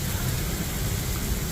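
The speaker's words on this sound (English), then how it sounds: "Okay, it really just started raining now." Steady rain hisses evenly and densely at the Indy 500 racetrack, with no voices over it.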